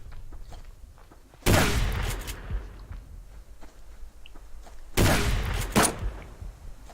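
Two loud, close gunshot blasts in the survival game Subsistence, spaced a few seconds apart, each a sharp crack with a brief rumbling tail, over low background ambience and faint footsteps.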